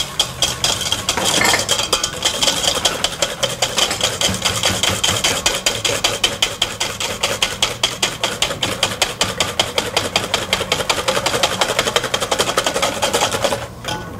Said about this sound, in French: Je mets 6 jaunes d'œufs à blanchir avec le restant du sucre